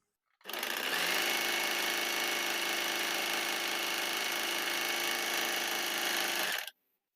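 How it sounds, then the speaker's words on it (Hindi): Usha Janome Wonder Stitch Plus sewing machine stitching strips of foam and fabric together for a bedsheet, running as one steady, loud mechanical whir for about six seconds without a pause, with no talking. "अब उन्हें हम सिलाई लगाकर एक कर लेते हैं।"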